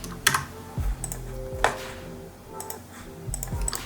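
Fingers type on a computer keyboard during font editing in FontLab, making clusters of close, crisp key clicks with short pauses between bursts.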